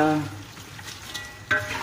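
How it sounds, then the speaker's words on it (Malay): Yellow noodles frying for maruku in hot oil with curry leaves, a steady low sizzle with faint stirring scrapes and a brief louder burst near the end. "Goreng lagi."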